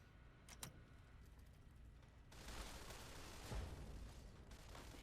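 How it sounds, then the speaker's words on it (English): Distant gunfire in the video game Fallout: Tale of Two Wastelands crackles in a few sharp bursts, then swells into a heavier, sustained barrage with booming impacts, fairly quiet overall and without voices. "Hear all that beautiful gunfire."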